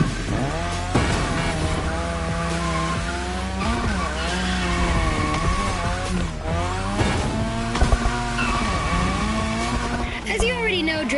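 Video game car drifting on a drift track, engine revving up and down through gear shifts with repeated tire squeals, loud and continuous, with a voice speaking over parts of it.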